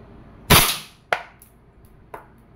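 Wingun 708 airsoft revolver firing a 0.30 g steel BB in single action, one sharp loud crack followed by two fainter knocks, with no talking.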